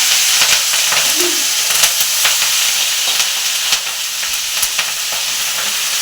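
Eggplant, potato and cabbage stalks for a chorchori fry in fish oil with a loud, steady sizzle and hiss close up, interrupted by faint scraping stirs.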